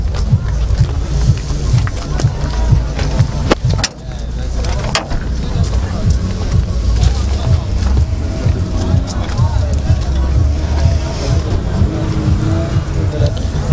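A boat motor being shown to a buyer starts and runs, a loud steady engine drone with a sharp bang near the start, while people talk over it.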